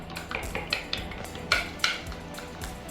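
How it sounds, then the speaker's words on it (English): A spoon scrapes and clinks against a bowl while Cajun mix and smoked paprika get stirred in, a run of light metallic taps with a few sharper knocks, close and steady, with no voices. "And stir that up."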